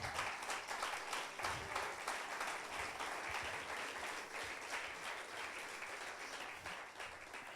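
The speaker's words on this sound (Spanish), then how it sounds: "Aplaudan al Señor si quieren." A church congregation applauds in a dense, sustained wash of clapping that stays fairly even throughout, slightly distant and with no clear talk over it.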